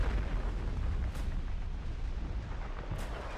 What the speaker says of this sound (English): Tell me each time you guys fire Raven and Munz